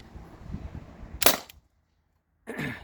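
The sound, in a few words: T4E TR50 air gun firing 2.8 gram aluminum balls on HPA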